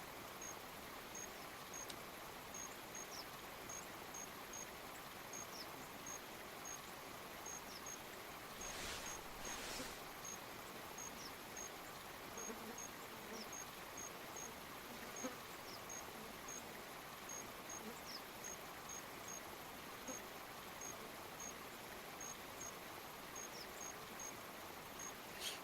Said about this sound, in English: What is all that noise? Is that rain?